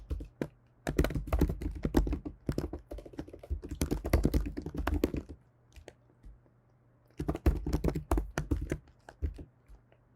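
Rapid keyboard typing while writing code, a steady patter of close key clicks in two bursts separated by a short pause, with no talking.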